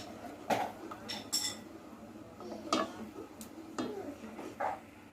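A spoon stirs a cooking pot of broth for Betawi-style nasi ulam, giving scattered metallic clinks and taps against the pot at an uneven pace, close by over low kitchen background noise.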